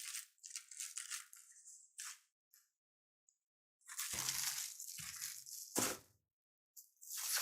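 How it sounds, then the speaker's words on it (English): Packaging crinkles and rustles as a costly sequencer is unwrapped, with bursts of close, crisp crackling broken by short silences and a few dull thumps. "Let's go ahead and unwrap."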